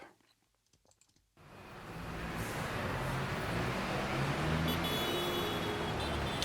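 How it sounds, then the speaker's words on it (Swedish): Quiet clicking gives way to a steady wash of busy South American capital city traffic, motorcycle and car engines and road noise filling the space, with faint activity of people mixed in. "Med motorcyklar, trafik och folk som rör sig."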